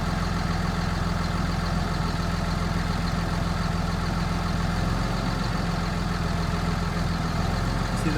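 A 2006 Cummins CM849 diesel engine in a 7.3 truck conversion idles steadily with a low, even rumble and constant mechanical clatter, close and uninterrupted.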